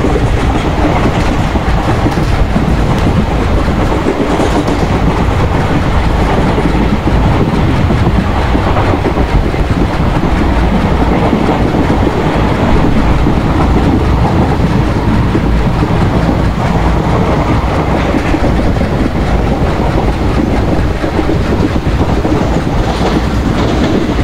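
An Indian passenger train in the MSTS Open Rails simulator, running the Bhusaval–Katni route, rumbles steadily with continuous wheel and rail noise and faint clickety-clack throughout.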